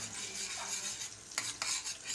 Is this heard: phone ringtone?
no